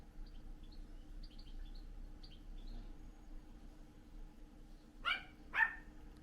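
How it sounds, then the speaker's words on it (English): Two sharp, fairly close barks from a dog barking at a horse break through a quiet background of faint chirping birds, with no one speaking. "still barking at the horse"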